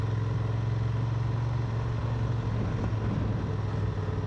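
A Honda Transalp motorcycle engine drones steadily while riding along a road, a loud, constant low hum with a rhythmic pulse and wind buffeting throughout.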